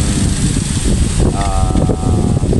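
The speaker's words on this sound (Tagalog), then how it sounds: "Lakas ng hangin." Strong wind roars and buffets the microphone throughout, a continuous rushing noise with a faint whining tone briefly rising in the middle.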